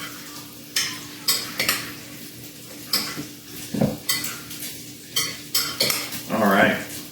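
A poke bowl of tuna, bacon, cilantro and lime juice is tossed with utensils, giving a series of clinking, scraping strokes against the bowl in irregular bursts, close and fairly loud.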